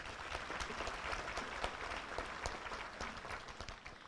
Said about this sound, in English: Please give them a big round of applause.